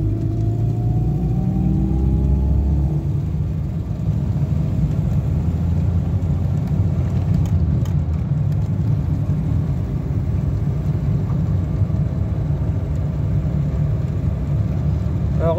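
A Citroën BX petrol car engine is pushed to full throttle, its revs climbing briefly at the start and then holding as a loud, steady roar for many seconds, with no speech.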